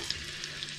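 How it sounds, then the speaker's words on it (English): Dried chili peppers frying in a pan for refried beans, giving a steady faint sizzle with a few small crackling pops, heard alone. "I'm going to fry these ingredients together."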